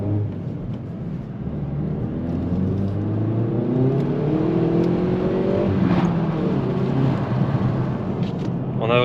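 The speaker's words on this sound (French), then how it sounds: "On sent que le châssis est très affûté. On va voir ça pendant l'essai routier. Après, toujours le plaisir de la boîte manuelle." A 275-horsepower Hyundai i30N Performance with a manual gearbox accelerates, its engine note rising steadily in pitch and loudness over several seconds, with a short gear change partway through and a speaker talking over it.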